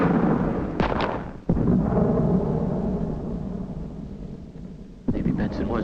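Cannon fire during a fort siege, heavy booms that strike about three times, each followed by a long rumbling decay, with voices talking between the blasts.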